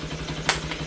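A Kawasaki NS200 Pulsar motorcycle engine idles steadily right after an oxygen sensor cleaning, a low even rumble with one brief sharp click partway through.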